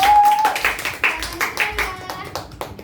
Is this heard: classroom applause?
yes